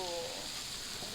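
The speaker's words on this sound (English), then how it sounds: "So we're going to flip this fish right now." A cod fillet sears in a hot pan, giving a steady, fairly faint hiss of frying throughout, with a brief tonal whine at the start.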